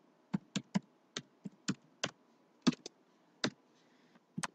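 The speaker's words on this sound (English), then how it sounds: "I just need to select the area and type in my text." Keystrokes on a computer keyboard, about a dozen separate clicking taps at an uneven pace, close and fairly quiet with no talking.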